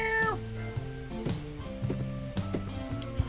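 A cat meows repeatedly inside the Order 13 video game, several short tonal calls one after another, close and fairly loud over soft background sounds, with no talk.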